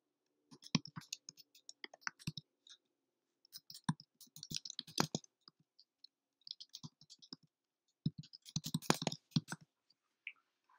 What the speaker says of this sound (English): So let's type that in now.